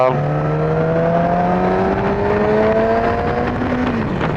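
Yamaha YZF-R6 sport motorcycle on a demo ride at DelMarVa Bike Week, its engine whining in a steady high-pitched drone that climbs gradually in pitch before easing off near the end, with wind rush underneath.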